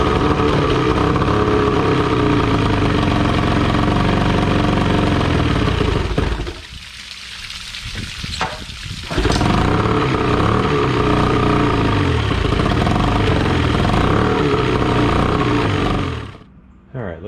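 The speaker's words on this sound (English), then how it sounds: "Throttle response is great, but it won't idle, and it sounds kind of, I guess, groggy is the only way I could describe it." A 1996 Johnson 25HP outboard motor runs loud and close with a rough, uneven idle, a steady drone that dips and falters in the middle before surging back, then cuts off near the end.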